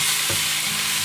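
Ginger garlic paste and dried fish stirred in a sizzling frying pan, a steady hiss of hot oil with a couple of spoon scrapes, close and alone.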